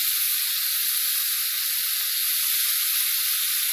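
Lime juice hitting sautéed shishito peppers in a hot pan, a loud, close, steady sizzling hiss that carries on without a break.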